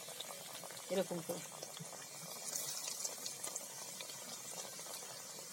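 Pumpkin papad fries in hot oil with a soft bubbling sizzle and a few faint clinks, while someone speaks briefly over it.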